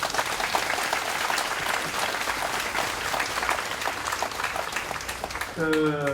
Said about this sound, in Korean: 박수를 좀 주십시오.